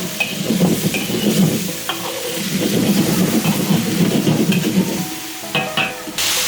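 Cured fish being stir-fried in a hot wok, a steady loud sizzle with repeated scraping and tossing strokes of the spatula, continuous throughout with brief clinks near the end.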